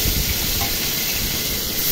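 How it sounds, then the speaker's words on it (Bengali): Pieces of katla fish fry in hot oil over medium heat, a steady close hiss and sizzle with no pauses and no talking. "গরম করে মিডিয়াম হিটে কাতলা মাছের পিসগুলো আমি ভেজে নেব।"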